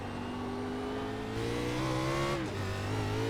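A Nitro Xfinity race car in a racing game on the Chicago Street Course downshifts into first under hard braking; the steady engine drone climbs, then its pitch drops sharply with a faint tire squeal.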